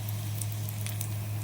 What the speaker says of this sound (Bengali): তেলটা গরম হয়ে আসলে তাতে দিয়ে দেব তেজপাতা, শুকনো লঙ্কা, গোটা গরম মশলা